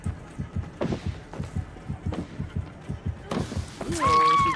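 Heartbeat in the game Dead by Daylight, a steady run of deep, throbbing thumps repeating at a fast, even rhythm, loud and close, with other game sounds and a brief tone rising near the end.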